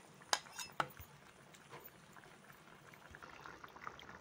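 Chopped tomatoes simmer with potatoes in a pot of boiling water for a village-style okra curry, a faint soft bubbling broken early by two sharp metallic clinks of a utensil.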